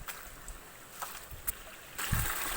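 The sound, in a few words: water flowing in a village channel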